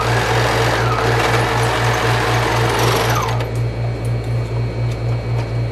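Overlock sewing machine finishing the seam of a skirt, a loud, fast, steady mechanical whir that runs continuously, then slows and shifts pitch partway through.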